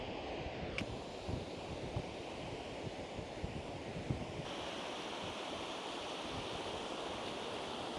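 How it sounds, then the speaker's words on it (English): Strong wind roars across a spectacular beach, a steady, loud broadband rush buffeting the microphone, blended with crashing surf, and no voices. "This is the most spectacular beach, but unfortunately there's a lot of wind."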